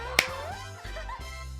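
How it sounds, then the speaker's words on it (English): A single sharp hand clap, struck in place of a high five during a Mario Party 6 game session, pops out once near the start over steady game music and background sound. "I clap to simulate a high five because I always do that"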